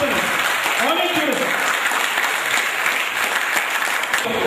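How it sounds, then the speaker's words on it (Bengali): Loud, steady applause from an audience at a 2015 discussion event, dense clapping filling the room throughout with no pauses. "তার জন্য একটি করতালি দিই সবাইকে জোরে, অনেক জোরে করতালি, অনেক জোরে।"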